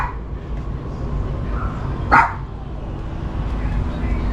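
A dog gives a single short bark at a distance, faint under steady background noise and murmur.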